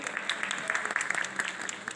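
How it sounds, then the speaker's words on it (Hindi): Audience applause at a school quiz competition after a correct answer, a steady wash of clapping from a crowd lasting the full two seconds, moderately loud with no talk over it. "भाई भरपूर तालियां होनी चाहिए।"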